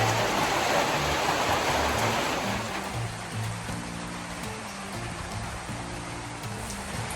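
Steady rain falls outside a trail shelter on an April section hike of the Appalachian Trail, a dense, continuous hiss that eases slightly partway through, with a low rumble beneath.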